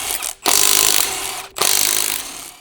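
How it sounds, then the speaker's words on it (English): An impact wrench with a 19mm deep socket removes lug nuts from a 2015 Ford Explorer wheel. It fires in two loud, close, rattling bursts, each about a second long, separated by a brief pause. "Using a large 19mm deep socket with an impact wrench, remove the lug nuts."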